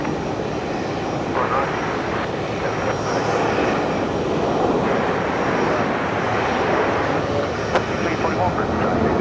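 Qantas A320 airliner landing on runway 01 right at Brisbane Airport, a steady loud engine roar sustained throughout, with voices speaking over it.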